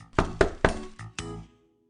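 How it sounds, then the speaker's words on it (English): Five sharp knocks on a door in a puppet show, landing in an uneven rhythm, close and clear with nothing else heard, then silence. "Cinderella was cleaning her stepfamily's house when she heard the knock on the door"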